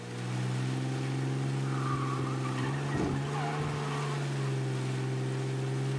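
Steady engine drone of a car in Mafia: Definitive Edition, holding a sustained, fairly loud tone with a brief surge near the middle as it accelerates, heard alone without talk.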